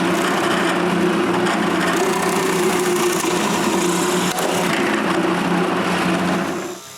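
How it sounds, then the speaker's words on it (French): A drill bores holes through a wooden 2x10 board, a loud continuous grinding whir with splintering texture that holds steady for several seconds before tailing off. "je dois percer les trous dans un bout de 2x10, puis je les perce"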